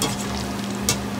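Pork belly sizzles loudly in a pan while being stirred, a dense continuous frying hiss with a brief scrape of the utensil near the end, close and without talk.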